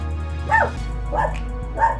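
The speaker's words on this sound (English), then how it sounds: "excuse Nubia, she barks at everything around here" A female dog barks three times in short, evenly spaced bursts at close range, over a steady low background hum.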